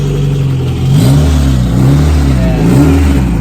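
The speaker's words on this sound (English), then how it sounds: "The exhaust make a lot of rattle noise." A turbocharged Honda Integra GSR with a B18C1 engine sits on a lift, revving up and settling in loud, close pulls, its exhaust note carrying a rattly buzz over the rising and falling engine tone.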